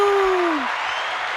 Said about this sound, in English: Where's the applause button?